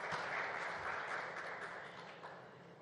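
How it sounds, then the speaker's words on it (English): A conference audience applauds in a large hall, a steady, dense wash of clapping that stays fairly even and faint throughout, with no voices over it. "A big round of applause again"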